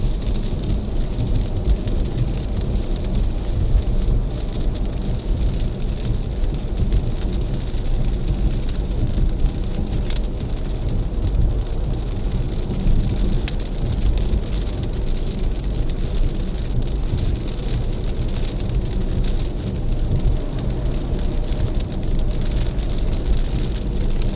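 Heavy pouring rain beats steadily on a car on Michelin Pilot tyres during a drive with Tesla FSD v13.2.9, a loud, dense roar of drops with a low road rumble underneath and no break.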